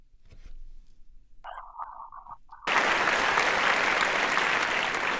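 Loud, sustained applause from an improv comedy audience bursts in suddenly and holds steady, following a brief stretch of quiet tones.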